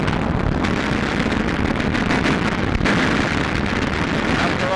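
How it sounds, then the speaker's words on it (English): A rocket-hit explosion during a P-47 Thunderbolt escort mission against twin-engine fighters in wartime combat footage: a loud, sustained roaring blast with a sharp jolt partway through, mixed with rushing wind-like noise throughout. "Watch this explosion."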